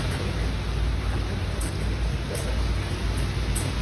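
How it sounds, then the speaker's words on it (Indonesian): Steady heavy rain roaring with a constant wash of wind noise, dense and close, no voices. "Hujan lebat."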